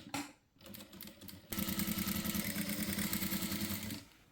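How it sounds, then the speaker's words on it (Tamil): A domestic sewing machine runs a second line of stitching along a blouse back seam, starting with a brief burst, pausing, then running steadily and close for a few seconds in a fast, even whirring rhythm before stopping. "அதுக்கு மேலே இன்னொரு தையல் போடுறோம்"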